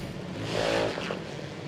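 Junior dragsters race at Sydney Dragway during an NSW Championship drag meet, engine noise swelling briefly as they pass at moderate distance, then fading back into a steady broadband roar.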